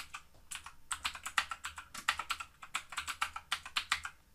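Rapid typing on a computer keyboard, close up, with crisp clattering keystrokes in bursts and brief pauses between runs.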